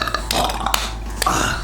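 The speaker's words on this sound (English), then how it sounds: "I just like edit all the burps into like one continuous thing of me burping." Person burping, a brief rough belch with a few clicky bursts in a short close-up moment.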